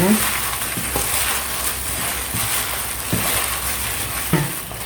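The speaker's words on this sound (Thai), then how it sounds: "เสร็จแล้วเราก็คนนะคะ จะใช้มือนวดนะคะ" Taro dough for a Thai purple sweet potato and taro dessert being stirred and kneaded by hand, giving a steady soft squelching, rubbing texture with occasional faint knocks, close and continuous.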